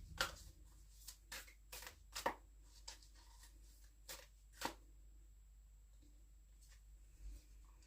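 Oracle cards are shuffled by hand in a quiet room, a series of soft, crisp riffles and taps coming in uneven bursts, then tapering into a few light shuffles.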